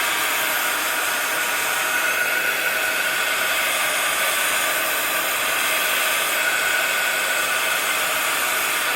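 A hair dryer blows steadily on wet paint in a sketchbook journal, a loud continuous rushing whir that holds an even level for the whole stretch, with no voices.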